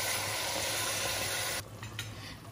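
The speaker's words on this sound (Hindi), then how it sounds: "हमारा मटन इसमें फ्राई हो रहा है, 5 मिनट में ये अच्छे से फ्राई हो जाएगा" Mutton for a do pyaza fries in a pan with a loud, dense sizzle that suddenly drops to a quieter crackle partway through, followed by a couple of soft bursts, and no speech.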